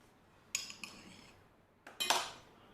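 Crepe batter is mixed with a metal utensil in a bowl to break up lumps, giving a few sharp scraping clinks in two short bursts separated by a quiet gap.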